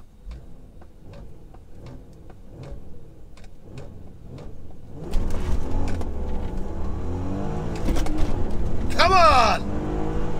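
Audi A3 3.2 VR6 launching at a drag strip: steady ticking at first, then a loud engine roar that builds hard with climbing revs near the end, with a brief voice over it.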